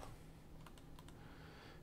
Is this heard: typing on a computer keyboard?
yes